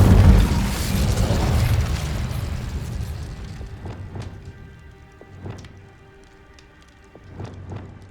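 Incendio fire spell from Hogwarts Legacy on PS5: a loud whooshing, roaring burst of flame that fades over several seconds, followed by scattered crackling pops and small bursts.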